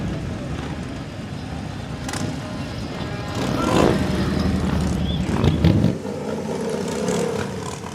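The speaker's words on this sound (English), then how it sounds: "Got some gorgeous bikes rolling through town right now." Motorcycles roll past in a town parade. Their engines rumble and rev up close, with a louder swell in the middle, over a busy outdoor crowd background.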